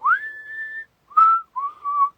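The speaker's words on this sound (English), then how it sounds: "So I remember just whistling a tune" A person whistles a tune up close and alone: one long rising note held steady, then two shorter, slightly lower notes after brief pauses.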